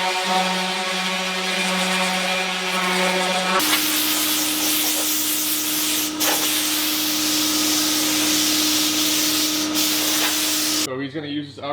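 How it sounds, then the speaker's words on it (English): Compressed-air hose blowing sanding dust off a freshly scuffed vehicle bumper in a shop, a loud steady broadband hiss that runs almost the whole time, starting after a brief lower hum and cutting off near the end. "He just got the bumper completely sanded and used the air hose, as you saw, to spray it off completely."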